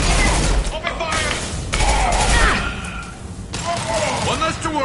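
Gunfire in the video game Mass Effect 2 (Legendary Edition): a sustained barrage of loud shots and thuds with occasional shattering impacts, with voices shouting over it throughout.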